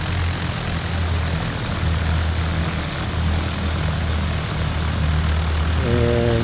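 A propeller airplane's engine drones steadily and loudly as it taxis in the X-Plane flight simulator game, a continuous hum with a slight pitch shift near the end.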